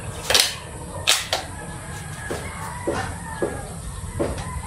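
Two sharp, loud pops from an Estrella Parco foot-pump airgun ring out close by, followed by several fainter snapping shots over steady background noise.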